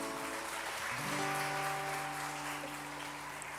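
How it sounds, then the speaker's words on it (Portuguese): A church congregation applauds during a worship service: a steady, close wash of clapping that runs the whole time, with sustained keyboard or organ chords sounding underneath. "Pode aplaudir o Senhor, celebra Ele"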